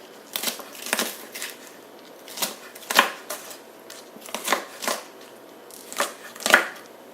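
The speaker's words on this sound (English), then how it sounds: "give it a nice rough chop" A knife rough-chops vegetables on a cutting board for New Orleans red beans and rice, a steady series of crisp, close chops roughly every half second with no talking.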